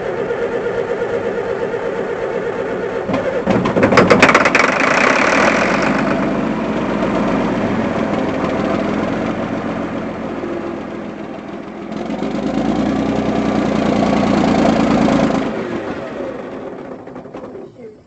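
A Caterpillar D6C bulldozer diesel engine under repair is cranked over and then rumbles at idle, a loud steady low drone that rises briefly mid-way and again later before cutting off, with voices talking over it.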